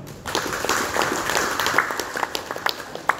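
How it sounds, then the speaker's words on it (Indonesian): Scattered audience clapping at a motivational seminar in Indonesia, moderately loud with individual claps standing out over a wash of applause, building slightly before sharp final claps. "Jadi tepuk tangan semuanya."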